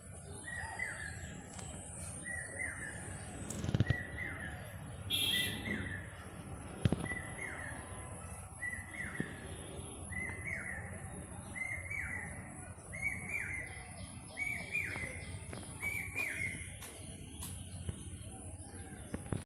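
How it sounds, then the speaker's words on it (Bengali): Village birds chirp and sing in a quiet morning, a repeated short call recurring at regular intervals, moderately distant over low rustling background with occasional louder thumps. "আপনাদের একটু পাখির ডাক শোনাইলাম"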